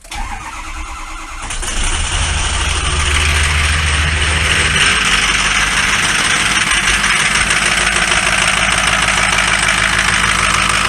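A Ford F550 6.0 PowerStroke diesel cranks briefly and fires on a cold start, then settles into a loud, steady, clattering idle that continues to the end.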